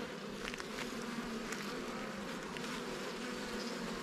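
Honeybees and large drones buzzing at an open hive during an inspection, a dense steady hum from many insects close by, no speech.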